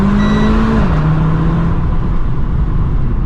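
A Renault Clio 220 Trophy engine screams up to its rev limiter, loud and close, the tone holding high, then dipping as the revs bounce off the cutoff, over a constant rushing drone.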